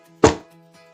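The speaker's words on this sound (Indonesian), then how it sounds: "yaitu bunyi pukulan meja" One hard, dull thump from a hand striking a table as a strong beat, close and loud, with a short tail and quiet room tone around it.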